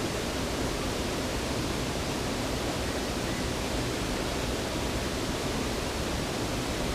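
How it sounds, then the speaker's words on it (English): Waterfall at Sundrum Castle, a constant broadband roar of falling water, steady and close with no other sounds rising above it. "found the waterfall"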